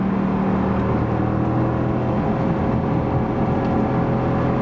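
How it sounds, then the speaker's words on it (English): Mercedes-AMG GT C Roadster V8 (557 hp convertible) giving a steady, low, sonorous engine drone while driving, constant and fairly loud with no speech over it. "this V8 gives a little sonorous, low frequency sound, as we would expect that"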